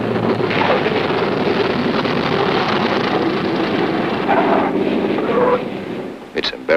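A B-17 Flying Fortress bomber comes in for a rough landing with a loud, sustained roar of its piston engines and rushing wind. The noise fades near the end, broken by a few sharp knocks.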